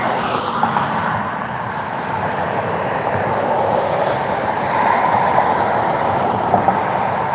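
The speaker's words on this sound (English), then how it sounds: "So we have a Pilatus PC-12 taking off, going to Brunswick" A Pilatus PC-12 turboprop takes off at Cleveland airport, giving a loud, steady engine roar that swells slightly toward the end and carries on throughout with no voices.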